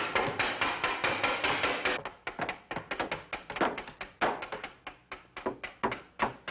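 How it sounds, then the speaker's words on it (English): A hammer knocks apart a wooden box in a rapid series of loud hollow thunks and taps, the blows coming fast and irregular throughout. "Why don't you take your hammer and go knock that box apart for me?"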